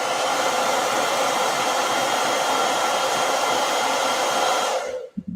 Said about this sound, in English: Let me hit that with a blow dryer.